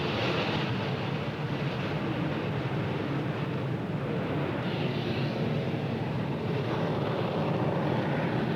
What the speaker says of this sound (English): there's the Aer Lingus A321neo coming in from Dublin